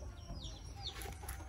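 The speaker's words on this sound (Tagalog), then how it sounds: "Ayan ang mga manok." Chickens in backyard coops on a rural hacienda cluck and call faintly at a distance, a few soft squawks rising over a low rumbling outdoor background.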